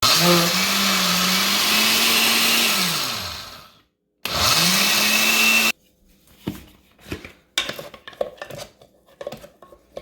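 A blender whirs loudly while grinding soaked urad dal into dosa batter, its motor pitch dipping as the load shifts, stopping, restarting briefly, then giving way to clinks and scraping of utensils.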